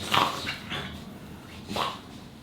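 A dog at home makes a few short, whiny vocal sounds, a couple of soft yelps or whimpers spaced across a brief stretch, close by and moderately quiet, with no talking.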